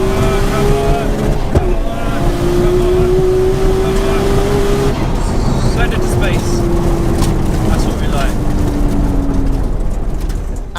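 Nissan Skyline R34 GT-R blasts down a drag strip, its engine note holding loud and sustained through long rising gear pulls with a brief shift break, heavy and close throughout.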